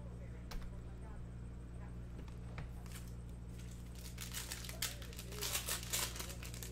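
Ripping open a retail pack of 2019-20 Panini Prizm basketball trading cards, a near, crinkly foil tearing that grows louder and sharper toward the end over a steady low hum.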